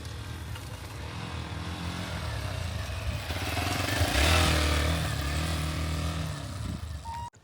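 A Hero XPulse 200 4V Pro motorcycle's air/oil-cooled four-stroke, four-valve single-cylinder engine runs close by with a steady rumble that swells briefly midway before cutting off, with no talking.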